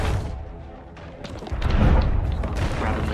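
Gunfire and booming blasts in a video game, dense thuds and bursts building louder toward the end, with players talking over the action.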